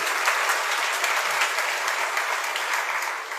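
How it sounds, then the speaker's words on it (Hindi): Audience clapping during a Hindi sermon by Acharya Vidyasagar Ji Maharaj, dense and sustained applause from a large gathering, loud and even throughout with no talk over it. "उसकी तालियां बज रही आज"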